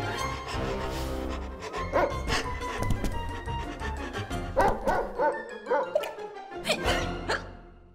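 A cartoon puppy barks and yips in a run of short, excited barks with a few whimpers, close and fairly loud over a steady background score.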